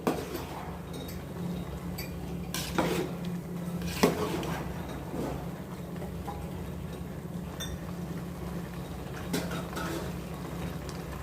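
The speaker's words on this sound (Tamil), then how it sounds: "சேர்த்து கொஞ்சம் நல்லா கிண்டி கொடுத்துடணும்" Tomato rice stirred in a pot, the ladle scraping and clinking against the metal sides in a few distinct knocks over a low steady background hum.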